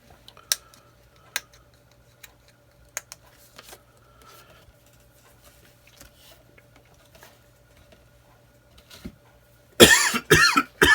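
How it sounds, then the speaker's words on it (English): A single harsh cough bursts out near the end after a long, quiet stretch broken only by faint scattered ticks and taps. "Excuse me for coughing on camera."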